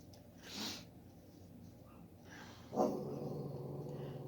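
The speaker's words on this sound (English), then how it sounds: "I don't know why them dogs are barking" Several dogs bark outside at a distance, in two short outbursts separated by a quiet gap, with muffled snorting and whimper-like yips.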